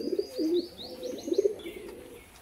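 Pigeons being sold as a pair coo close by in low, rolling bursts, with a few higher chirps threaded through over about two seconds.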